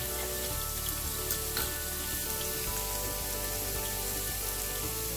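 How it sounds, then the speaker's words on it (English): Onions sauté in a hot pan, giving a continuous close sizzle and crackle with scattered small pops, steady throughout with no talking. "Now as our onions are sauteing"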